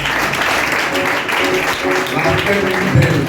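Steady crowd applause fills the space, a continuous wash of clapping with voices murmuring underneath throughout.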